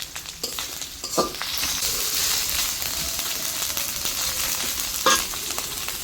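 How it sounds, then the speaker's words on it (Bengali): Garlic paste with ground cumin and coriander paste frying and being stirred for a desi chicken curry, a steady moderate sizzle with a few sharp scraping clinks of the spoon against the pan. "দিয়ে এখন আমি মশলাটা একটু ভালো করে কষাবো।"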